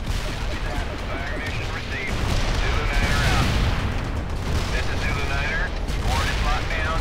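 Artillery shells burst in the World in Conflict battle game, with heavy booms and rumbling gunfire rolling continuously and swelling midway, and faint voices mixed in.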